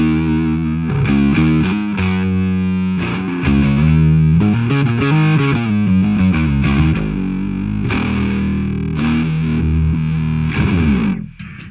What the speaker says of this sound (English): you come up with a ripping bass tone that sounds a little like this.